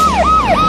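An ambulance siren wails loud and close, rising and falling in two quick sweeping cycles with nothing else heard over it.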